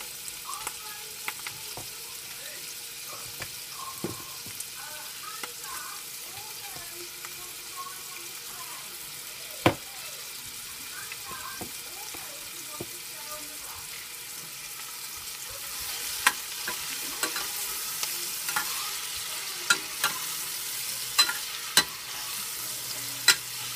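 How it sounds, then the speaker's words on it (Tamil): Cut raw mango pieces for pickle are tipped into a pan and stirred, with soft scraping, light clatter and occasional sharp clinks, and a louder sizzling wash of sound building over the second half. "இப்போ வந்துட்டு இந்த மாங்காய் கட் பண்ணி வச்சுருக்க எல்லாத்தையும் எடுத்து போட்டுடலாம்."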